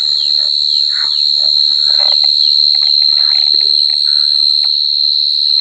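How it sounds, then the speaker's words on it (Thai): Crickets at a temple in Lampang, Thailand, shrill in one loud, constant high-pitched tone through the evening, with faint scattered background noises beneath. "จิ้งหรีดร้องอยู่นั่นนะ"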